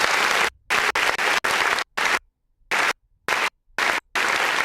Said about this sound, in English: I gotta retire this clap